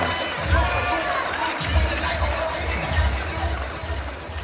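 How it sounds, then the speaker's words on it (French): A boxing crowd at a professional bout cheers and applauds the fighters. Steady, dense roar of many voices with scattered whoops and shouts, loud and continuous throughout, filling the arena. "on met le feu, on applaudit les boxeurs"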